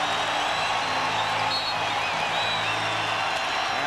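A basketball arena crowd at a Phoenix Suns at Seattle SuperSonics game keeps up a dense, continuous roar of cheering and whoops, with a broadcast commentator's voice faintly mixed underneath.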